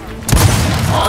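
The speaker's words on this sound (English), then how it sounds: "Wow, that is one explosion!" Explosion in the video game Gears of War 4, a sudden broadband burst with a heavy low-end thump that then sustains as a loud rumbling roar to the end.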